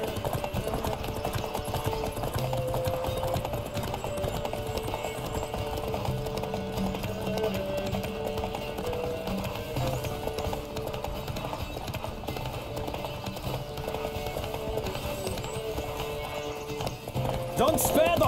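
A horse gallops in a race in The Witcher 3, steady rapid hoofbeats running throughout with occasional neighs, layered over game music, with voices talking over it.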